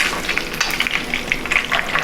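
Rice and eggplant polpette fry in hot oil, a dense continuous crackle and sizzle with scattered sharp pops of splatter, close and fairly loud, with no voices.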